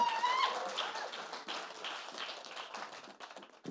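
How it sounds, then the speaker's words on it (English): A comedy show audience gives a newcomer comedian a warm round of applause, a dense, lively clatter of many hands that thins out toward the end. "Can I get a good round of applause?"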